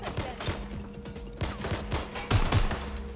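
Gunfire in Watch Dogs: Legion: rapid, repeated shots in quick bursts over a steady background hum, growing louder and heavier in the last second.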